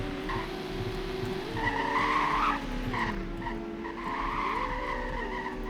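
A BMW M2 drifts, its tires squealing in long wavering tones over a steady engine drone, heard from inside the car with no talking.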